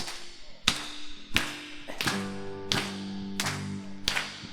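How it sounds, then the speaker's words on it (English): A small group clapping hands in unison, six sharp, loud claps in a steady slow rhythm with a faint sustained musical tone ringing underneath between them. "we're going to start this off by clapping"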